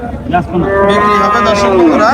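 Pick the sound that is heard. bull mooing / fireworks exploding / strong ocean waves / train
bull mooing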